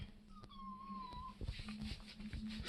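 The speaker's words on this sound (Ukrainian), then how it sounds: "А зараз я прийшла до батьків погодувати їхню кицьку" A domestic cat at home gives a single drawn-out meow that is soft and fairly close, followed by faint rustling and small movement sounds.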